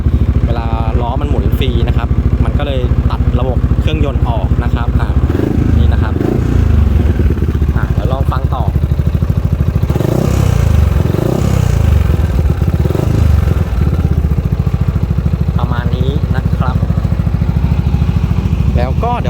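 A 2019 Yamaha XMAX 300 scooter with aftermarket exhaust and its rear wheel lifted off the ground, engine droning loudly and continuously as the throttle is twisted, with someone talking over it.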